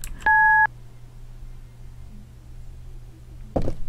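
A single short dual-tone keypad beep from a phone dialing the police emergency number in an RPG Maker horror game, clear and close over a low steady hum, followed near the end by a brief noisy burst.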